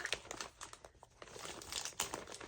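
A crinkly plastic package holding a yarn haul is ripped and torn open by hand, with close, irregular bursts of crackling and crumpling that come in quick, uneven clusters.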